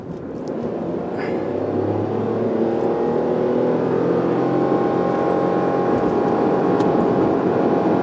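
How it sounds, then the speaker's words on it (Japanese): Toyota Roomy X with a mild CVT pulls onto a highway at full throttle toward 100 km/h, a steady loud engine drone rising gradually over eight seconds under road and wind noise, heard from inside the cabin. "ちょっと全開で100キロまで加速しますので"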